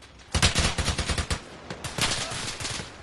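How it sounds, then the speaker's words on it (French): Loud, close automatic gunfire in a video game, a rapid burst of shots, a brief gap, then a second sustained burst, with no talk over it. "Attention, on tire à 1000 les gars, attention."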